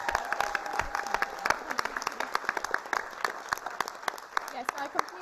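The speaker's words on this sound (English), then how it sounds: "So I think that's worth a round of applause." Audience applause after a ballroom dance performance at an amateur Strictly-style event: dense, sustained clapping from a crowd, steady throughout with a few sharper claps standing out.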